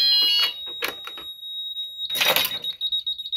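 A smoke alarm sounds during a fire alarm system test. It begins with a few short bursts and clatter, then settles into a loud, piercing, continuous tone with pulsing noise underneath.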